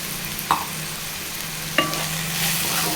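Ivy gourd fry stirred with salt in a pan, a continuous soft sizzle with two sharp spoon clinks against the pan, close up and without talk.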